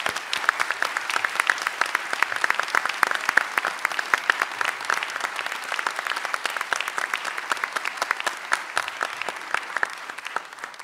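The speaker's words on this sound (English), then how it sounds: "join me in giving him another round of applause for a wonderful leadership" An audience at a law school association's annual meeting gives a round of applause, crisp dense hand clapping that stays even and fairly close for about eleven seconds before tapering slightly.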